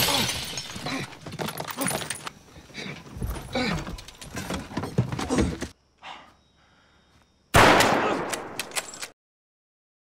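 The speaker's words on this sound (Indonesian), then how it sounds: "terdengar suara tembakan" Gunfire in a film scene during a chase through a forest, with loud dense bursts of shots and shattering impacts, a brief quieter pause, then another loud burst before sudden silence.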